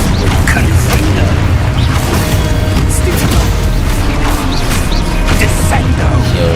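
Confringo fire spell bursting in the video game Hogwarts Legacy, loud crashing booms and impacts over a dense, continuous bed of game combat noise.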